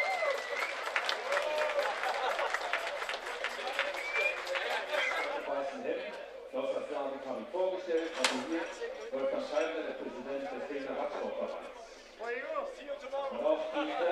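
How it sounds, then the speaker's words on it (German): Audience applause for a rider at the Rudow bike race, Tour de Berlin 2006, a steady clapping crowd for the first five seconds, then a public-address announcer speaking over softer ongoing crowd noise. "Dort ist er mit ihrem Beifall, Luca Dosvalli, Italien."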